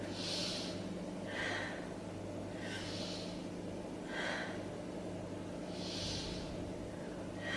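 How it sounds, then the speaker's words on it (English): Slow, deep breaths taken while holding a yoga pose, several soft rhythmic inhales and exhales at close range over a quiet, steady background. "Take 3 breaths here."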